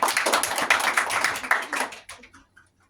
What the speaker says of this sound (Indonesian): Beri tepuk tangan untuk Mbak Diana.